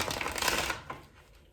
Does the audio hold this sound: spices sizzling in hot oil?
no